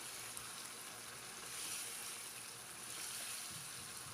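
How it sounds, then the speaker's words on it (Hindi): Chunks of chicken and thick-cut potatoes frying together in a pan over a medium flame, giving a soft, even, continuous crackling sizzle that stays steady and fairly quiet throughout. "आलू को भी हम चिकन के साथ तकरीबन 3 से 4 मिनट तक फ्राई कर लेंगे"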